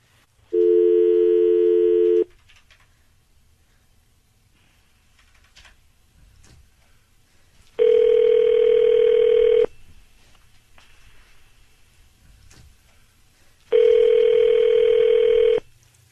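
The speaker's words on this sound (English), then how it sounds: "We're about to dial your husband, all right?" A telephone dial tone sounds alone for about two seconds, followed by two longer steady tones of ringing or dialing separated by quiet gaps, all loud and clear with no talking.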